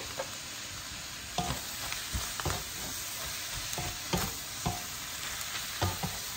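Cabbage stir-frying with soy sauce in a pan for Indonesian mie goreng, a steady sizzle broken by scattered scrapes and clacks of a spatula stirring the vegetables, with no one speaking.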